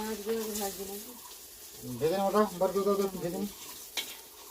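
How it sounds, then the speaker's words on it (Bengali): Food frying in a pan while being stirred, a soft sizzle with occasional stirring scrapes, mostly buried under a melodic voice-like tune. "ভেজে তো নিচ্ছি ভালো করে"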